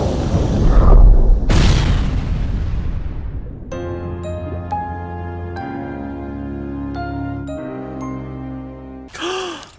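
A cartoon torpedo explosion bursts out as a loud, deep boom with a rushing blast that fades over a couple of seconds, followed by a sustained tonal musical chord and a final swelling hit.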